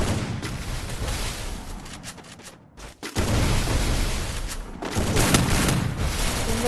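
Rapid rifle fire and booming shots in a battle-royale style mobile game match, loud and dense, filling the clip with a short pause near the middle before bursts resume.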